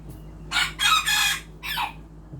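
A bantam rooster suffering from fowlpox crows nearby, a loud, drawn-out call broken into several bursts, followed by a short clucking phrase.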